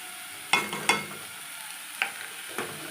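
Taro (mankochu) paste is stir-fried in a wok over a low, constant sizzle, with four distinct scraping clacks of a spatula against the pan spaced irregularly across a few seconds.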